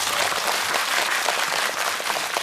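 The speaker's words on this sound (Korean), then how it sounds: "세 분께 박수 한번 부탁드립니다" A cinema audience at a Korean film Q&A screening in a CGV theater in Yongsan applauds three guests. The clapping is steady, dense and close, and there is no talk over it.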